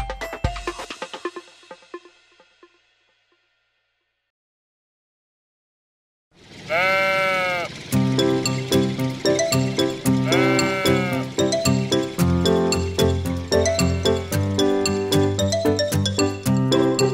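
A sheep gives several loud, wavering bleats after a short silence, followed by bright children's music with more bleats sounding over it.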